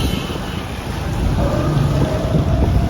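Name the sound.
rain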